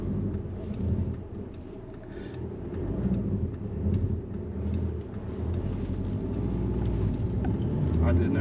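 A manual-transmission car drives on after starting off from a stop, its engine rumbling steadily and loud throughout, with voices audible in the cabin.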